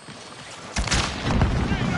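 A frag grenade goes off in Call of Duty: one sudden broadband boom that hangs on as a rumbling tail, with a second swell of noise following it, and a voice talking over the blast.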